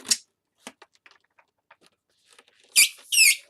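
A latex twisting balloon squeaks in short bursts while being twisted into a Pokemon shape, with sparse rubbery rubs and ticks and then two louder, drawn-out squeals close by near the end.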